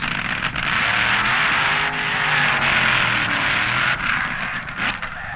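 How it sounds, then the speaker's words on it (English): Supercharged nitro-fuel funny car drag racers at the 1972 NHRA World Finals, a loud, continuous roaring blast of engine noise with harsh high-pitched crackle, sustained for several seconds with brief dips, no talking. "These cars have greatly modified supercharged engines and run on special nitro fuel."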